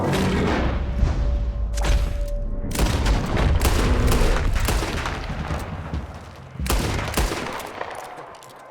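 Gunfire in the video game Red Dead Redemption 2, a rapid series of loud booming shots and volleys, some overlapping, close and punchy with no talk.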